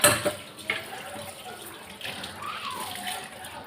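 Water runs and splashes steadily close by, a continuous gush as a small kitchen stove is rinsed.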